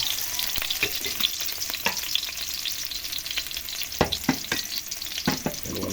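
Vegetables and shrimp stirred in a hot pan, with a steady sizzle of frying and repeated scraping clacks of the utensil, close and continuous with no talking.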